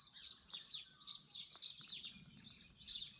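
Birds sing and chirp continuously in a fresh garden after heavy rain, with bright repeated calls over a quiet background.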